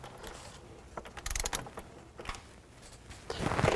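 Torque wrench tightening knock sensor bolts on a 2000–2006 Chevy Tahoe engine, faint close ratcheting clicks and metallic creaks in short irregular bursts, no talking.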